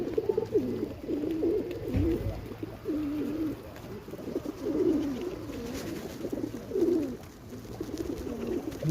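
Pigeons coo repeatedly at feeding time, a rolling series of close, soft calls in steady rhythm, with faint outdoor background and no talk.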